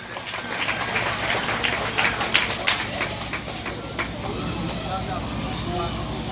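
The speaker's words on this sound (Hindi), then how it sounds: "जोरदार ताली लगाएं" Crowd applause at an Ambedkar Vichar Manch discussion event during a shobha yatra, a dense, steady wash of clapping that holds at even loudness throughout.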